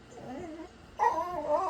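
A dog whimpers and yips in high, wavering bursts, growing louder and more insistent in the second half, close by and excited as its feeding time approaches indoors.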